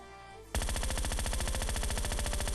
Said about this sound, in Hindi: पीछे की साइड से कुछ फायर आते हैं